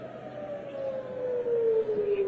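An air raid siren wails across Jerusalem, one long steady tone that slowly falls in pitch, loud and sustained over a dense background hiss of the city.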